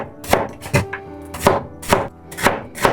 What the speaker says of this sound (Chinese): 洗干净以后，把苦瓜切成片儿